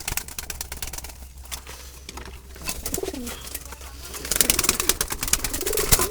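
Tethered wild Jalali pigeons kept in a basket coo repeatedly at close range, soft throaty calls rising toward the end over rustling and tapping noises, with no speech.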